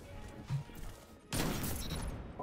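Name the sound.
gunfire in a 1v1 video game match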